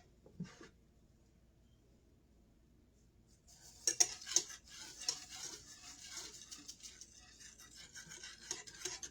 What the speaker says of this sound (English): Stirring down my pot.